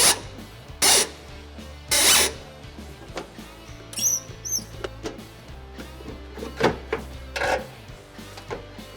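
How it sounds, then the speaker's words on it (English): Phillips screwdriver work on the tail light screws of a 1995–2004 Toyota Tacoma, close and fairly quiet, with scattered clicks, ratcheting scrapes and a few louder bursts of handling noise. "There's 4 screws that you can remove using a Phillips head screwdriver."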